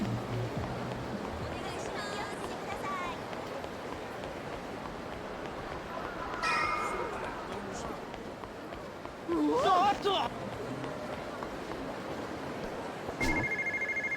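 A payphone rings in the Yakuza 0 video game, with short electronic ring bursts over busy in-game street ambience and occasional footsteps.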